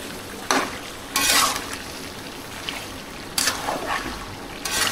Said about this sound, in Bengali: ভালোভাবে এগুলোকে কষাই নিতে হবে, অনেক সময় নিয়ে কষাইতে হবে